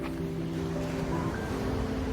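Ocean waves wash steadily along the Irish coast, a soft continuous surf with a low, faint hum beneath it and no voices.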